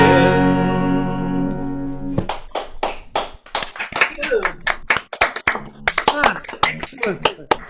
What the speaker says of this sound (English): Don't forget to unmute yourselves to clap if you want your claps to be heard